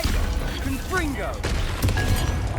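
A Confringo fire spell goes off in the Hogwarts Legacy game inside a catacomb, with a sharp crashing burst after brief voiced game sounds, amid rumbling background ambience.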